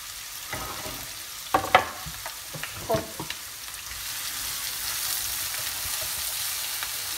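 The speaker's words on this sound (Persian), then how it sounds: "میخوام یه تفت بخوره و پیازم نرم بشه" Chopped onions softening in oil in a pot for Indian-style biryani, a steady soft sizzle with a cluster of spoon scrapes and knocks early on, then a smoother frying hiss.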